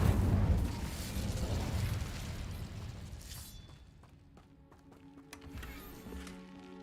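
A fiery Incendio spell bursts in Hogwarts Legacy with a loud roaring whoosh that fades over a few seconds, followed by softer chiming, shimmering game effects and a low rumble.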